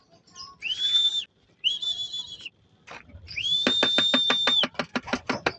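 A person whistles to call pigeons: two long, rising, sustained whistles, then a third that breaks into a rapid train of short chirping pulses, loud and close with quiet gaps between.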